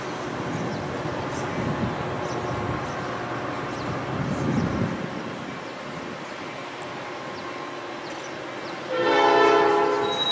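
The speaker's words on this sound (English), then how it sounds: "the inbound Metra used its horn to alert pedestrians of the second train" Rumble of a passing Metra commuter train at Elmhurst, then a loud, sustained horn blast near the end, close and prominent.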